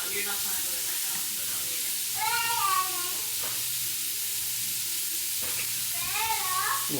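Japanese-style steak fried rice sizzles steadily in avocado oil in a hot pan, with constant frying hiss and occasional stirring scrapes while a person talks over it.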